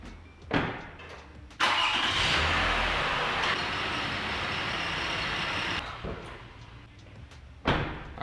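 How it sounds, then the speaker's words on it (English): A Toyota Highlander engine cranks and catches after a door thud, then idles steadily and loudly up close for several seconds before quieting. Another thump follows near the end. "Now we will start the vehicle and move it to a level surface to check the oil level"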